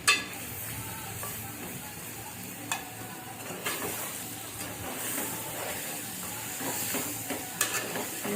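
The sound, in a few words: stirring mutton in oil in a pan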